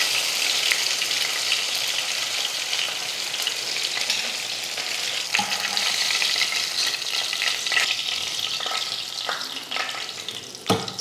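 Sankara fish frying in a pan, a steady close crackling sizzle of hot oil that runs without a break, with a few brief clinks and stirring sounds near the end.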